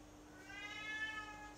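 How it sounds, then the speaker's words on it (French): A sad cat cries with a single drawn-out, rising and falling meow, faint and somewhat distant over a quiet steady background hum. "il pleure ce chat."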